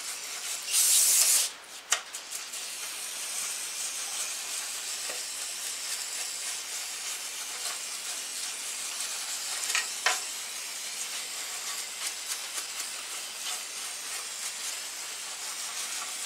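A light scrub on a 2006 Hummer H3 3.5-liter five-cylinder engine part with brake cleaner, a brief loud spray hiss at first followed by a continuous soft rubbing, brushing sound, close and steady with no talking.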